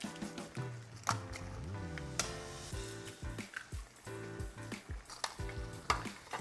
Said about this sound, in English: Take the time and you stir all of this up. Get your eggs to touch everything that's in there.